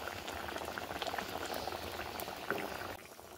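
Water pours and bubbles in a cooking pot holding potatoes and spices, a dense close hissing burble that runs steadily for a few seconds before easing slightly at the end.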